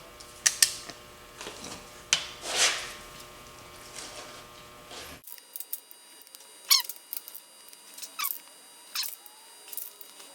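A ratchet wrench tightening bearing cap bolts on a bare 5.7 HEMI block, giving several short bursts of near, crisp clicking spread across the stretch with quiet gaps between.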